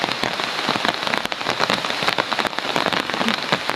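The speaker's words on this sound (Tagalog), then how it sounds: "Malakas yung ulan." Heavy rain pours down hard, a dense continuous hiss with sharp drops pattering nearby on a surface.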